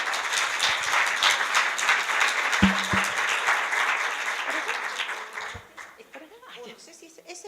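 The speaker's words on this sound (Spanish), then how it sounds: "darle la bienvenida y un aplauso" An audience in a meeting room applauds with a full burst of clapping that carries on for about five seconds before dwindling to scattered claps, with a thud, some chuckles and people talking near the end.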